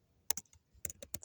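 Sharp clicks of HTML code being typed on a computer keyboard, coming in a few scattered bursts of keystrokes, close and fairly quiet, with no talking.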